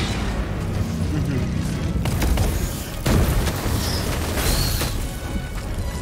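An orbital strike lands in the co-op shooter Helldivers 2, with deep booming blasts near the middle, around two and three seconds in, over a constant roar of battle noise and gunfire.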